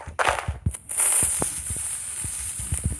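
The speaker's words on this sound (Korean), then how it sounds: "어쨌든 이제 이 폭발 소리도 다릅니다." TNT explosion sound effect, heard as a sharp blast followed by a sustained rumbling roar scattered with smaller pops and crackles over about three seconds.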